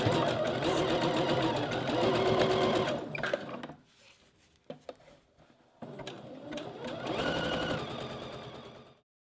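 A sewing machine stitches lace over a strap tab in rapid bursts, running hard for about three seconds, pausing with a few clicks and handling sounds, then resuming at full speed before stopping.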